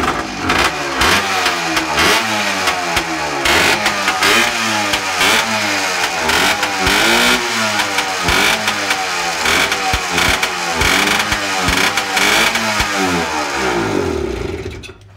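A Suzuki two-stroke engine fires up and runs loud and close, revving in a rapid repeating rise-and-fall pattern that continues throughout before easing off at the end.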